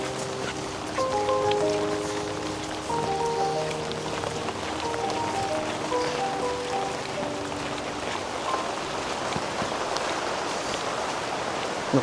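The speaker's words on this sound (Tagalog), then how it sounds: "Walang tigil ang ulan, ano? Kagabi pa po itong ulan." Heavy, continuous rain hisses steadily throughout, with soft tonal hums drifting through the first two thirds.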